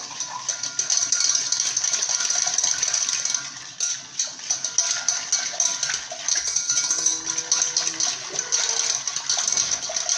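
Lemon juice being stirred into gelatin in a bowl gives a steady run of light clinks and rattles from the utensil against the bowl. Nobody speaks.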